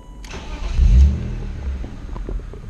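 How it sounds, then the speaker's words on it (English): BMW E36 M3 engine cranking in a garage, then catching and settling into a steady idle, with a short loud surge right after it starts, heard close and without any talk. "So go ahead and just turn your car on."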